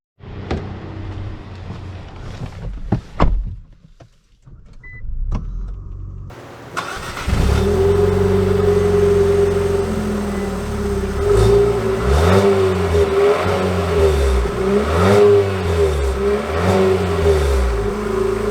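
A 2022 Infiniti QX55 crossover starts up after some door and cabin clunks, then drives off with its engine revving through repeated rising-and-falling acceleration sweeps, heard steadily from inside the car.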